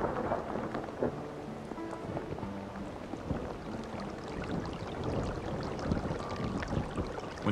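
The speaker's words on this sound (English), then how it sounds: "When the rains finally come to this arid land, they're a welcome relief for the desert creatures." Rain falls on arid desert land, a dense, even hiss of drops with soft irregular patters and low rumbles, steady and moderately quiet throughout with no voices.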